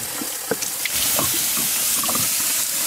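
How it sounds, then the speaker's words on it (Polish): Water poured to refill a container beside a car parked at a gravel pit, a steady broadband hiss of flow running continuously and fairly close, with a few small knocks and clatters near the start. "Można wodę uzupełnić."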